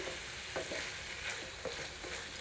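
A spoon stirs paneer and peas curry in a pan, scraping in quick irregular strokes over a soft, steady sizzle, close and fairly quiet with no voices.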